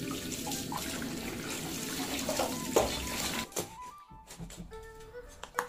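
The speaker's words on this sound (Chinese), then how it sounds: "我们先把它清洗干净。" Fresh whole rabbit rinsed under a steady stream of running tap water at a kitchen sink, continuous splashing and gushing for several seconds, then breaking into irregular splashes and drips near the end, with no talking.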